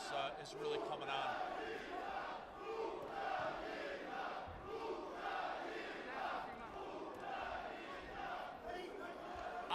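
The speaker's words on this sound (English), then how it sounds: "I don't know what the crowd is yelling" A boxing crowd at a live bout yells and roars without pause, a dense wall of voices that rises and falls in waves, with commentators talking faintly underneath.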